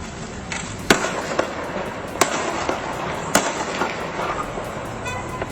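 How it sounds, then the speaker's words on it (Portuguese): Gunshots during a police chase after meat thieves in a street, several sharp cracks spaced unevenly over a steady noisy outdoor background, moderately loud and somewhat distant. "Dá para ver o barulho aí dos disparos, a polícia indo atrás."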